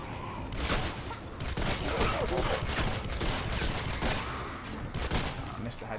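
Continuous gunfire in a Fortnite battle, dense overlapping shots forming a steady barrage with scattered sharper cracks throughout.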